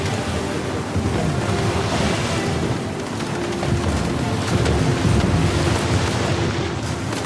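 Ocean waves and rushing water in the video game Uncharted 4, a loud continuous surging wash with a windy roar and no voices.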